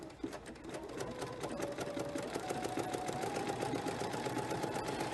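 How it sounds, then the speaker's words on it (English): A sewing machine runs steadily, stitching a decorative feather stitch across a crazy patch quilt block, a close, even mechanical whir with a rapid needle rhythm throughout and no voices. "I have chosen the feather stitch, and I'm just going to stitch this out."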